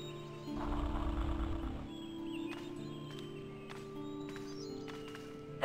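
Horse hooves clip-clopping in the Broken Sword: Shadow of the Templars video game, a soft, steady series of light hoof steps set under a low game music bed, moderately faint throughout.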